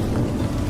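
Heavy rain pours down in an animated moral story, a dense, steady hiss of downpour that fills the brief moment with no voices.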